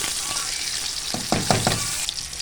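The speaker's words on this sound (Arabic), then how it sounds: "هسه قاعد اقلب الدجاج هذا الشكل" Chicken sizzling in a hot pan while being stirred, a steady close frying hiss broken by a few scraping stirs and clatters.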